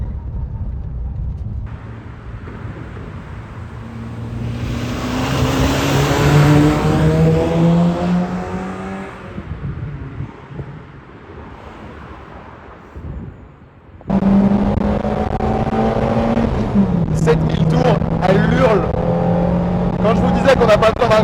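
A Peugeot 205 drives and accelerates through its gears, the engine note climbing and dropping between shifts, loud and close as from inside the cabin, with a voice talking over it.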